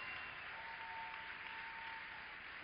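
Steady, faint audience applause at a Christian music festival evening concert, an even wash of clapping without voices.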